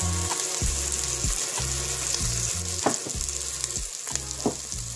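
Garlic powder fries in a pan for turkey rice porridge, a close, steady sizzle with intermittent stirring clatter and low hum beneath, no one talking.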